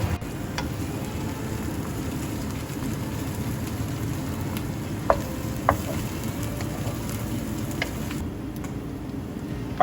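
A mixture for Hainanese chicken rice cooks in a pan with a soft, constant sizzle and faint crackle, plus a few sharp clicks of utensils, close but fairly quiet and with no voices.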